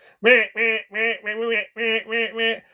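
A human voice imitates a duck, as a film killer does, with seven quick nasal quacks in a close, even rhythm.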